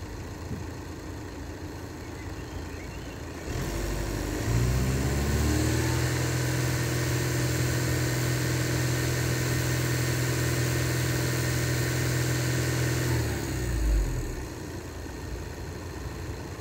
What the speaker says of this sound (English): I'm going to rev the engine to 2500.